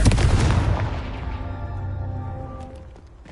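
A booming fire-spell explosion in a Harry Potter wizarding game, one loud blast that rumbles and decays over a few seconds with a ringing tail, no talk over it.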